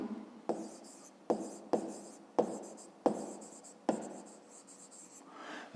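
A pen scratches across paper during a fifth-grade math exercise, in several short close strokes with brief pauses between them.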